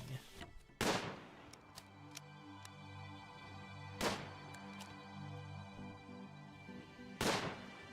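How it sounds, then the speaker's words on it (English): Three sharp, loud bursts of gunfire from the video game RimWorld, spaced a few seconds apart, with a low rumbling hum and faint clicks in between. "I hear gunfire?"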